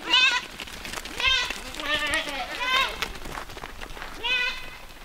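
Several goats bleat repeatedly nearby, their wavering cries overlapping in irregular bursts over outdoor noise.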